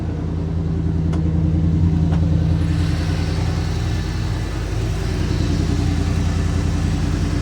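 Rumbling 1987 Camaro IROC Z28 with a numbers-matching engine and brand-new dual exhaust, idling steadily with a deep, loud, continuous burble and no talk, close by throughout.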